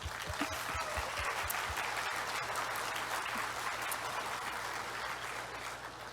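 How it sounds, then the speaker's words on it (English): An audience at a TennoCon 2019 panel claps steadily for several seconds, a dense continuous patter of many hands with no voices over it. "round of applause."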